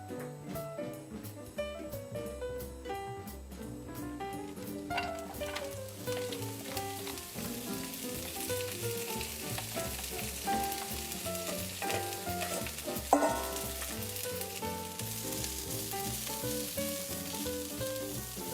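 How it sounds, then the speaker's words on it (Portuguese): Fennel sautés in a thin drizzle of olive oil, a steady sizzle and frying hiss running unbroken throughout, with clatter from stirring on top. Dense, tonal music-like layers sit in the background. "Vamos então saltear o nosso funcho, um fiozinho de azeite."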